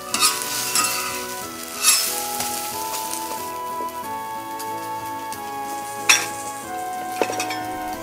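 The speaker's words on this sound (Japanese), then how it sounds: "そばをねパリパリに焼きます。" Soba noodles fry crisp on a tabletop iron griddle for okonomiyaki, a steady close sizzle with scraping and clinks of a metal spatula, brief louder scrapes scattered through, while faint background music plays.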